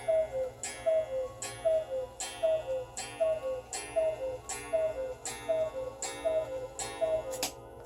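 A repaired cuckoo clock ticks while being tested on the bench, a steady, evenly spaced tick-tock with a ringing metallic edge, close and clear with quiet room tone behind.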